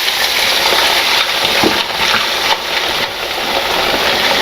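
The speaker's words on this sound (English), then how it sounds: "I'm just going to pour a little bit of water in here." Water poured into a cooking pot of butter chicken, a steady broadband gush and sizzle running continuously for several seconds, fairly loud and close, with no talk.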